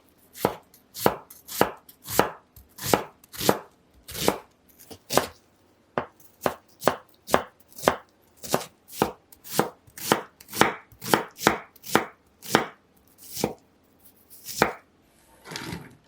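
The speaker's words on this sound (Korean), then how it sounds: "양파는 작은 크기로 써시고요." An onion is cut into small pieces with a knife on a cutting board, giving a long run of close, crisp chops at a steady pace with brief pauses, and no talking.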